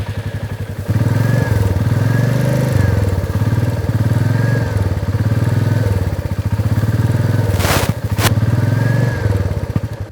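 Royal Enfield motorcycle with a new engine idling with a steady low thumping beat, close and loud, running continuously with a few brief revs and a sharp clatter near the end.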